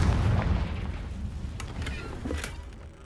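A Confringo fire spell in the Hogwarts Legacy video game erupts in a heavy booming blast. The blast rolls into a rumbling tail with a few sharp crackling bursts, loud and close, with no voices.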